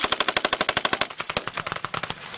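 Rapid automatic fire from a tripod-mounted gun during a military exercise at Schofield Barracks, Hawaii: a fast, steady string of loud close shots, about ten per second, with no talk over it.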